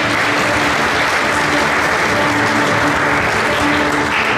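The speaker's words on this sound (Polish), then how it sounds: "Wielkie brawa!" Sustained, dense applause from a crowd at a sports awards ceremony in Olsztyn honoring athletes, steady and loud throughout with no clear speech.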